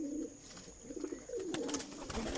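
Pigeons coo in a loft holding about fifty birds, low soft burbling calls repeating close by over a steady background hum, with faint wing and movement noises mixed in.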